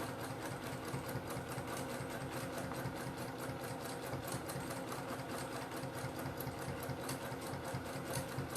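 A sewing machine stitches steadily through free motion quilting, its fast needle chatter running continuous and close with an even motor hum from start to finish.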